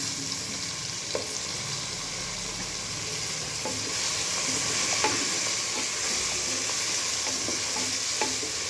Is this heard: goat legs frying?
yes